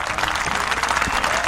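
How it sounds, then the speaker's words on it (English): Applause for the Lady Coyotes at a college women's softball game, a dense, steady wash of clapping from a crowd that fills the whole stretch without a break. "Nice round of applause, of course, for the Lady Coyotes"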